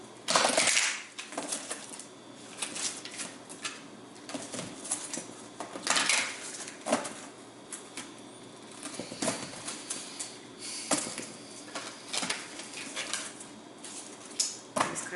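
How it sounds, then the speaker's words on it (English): Oversized tarot cards being shuffled by hand, a run of soft papery riffles and slaps in irregular bursts, close to the mic with no talking. "These cards are so big, sometimes I have the hardest time shuffling them."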